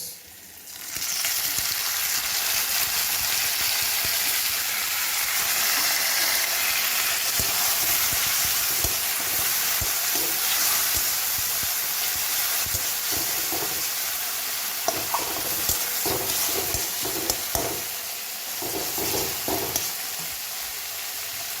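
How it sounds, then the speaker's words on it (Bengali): Chopped tomatoes go into a pan with green peas for pasta and fry with a steady, loud sizzle, broken by stirring scrapes and clicks toward the end. No one speaks. "এবার I am going to add the chop tomatoes."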